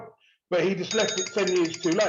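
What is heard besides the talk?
mobile phone ringing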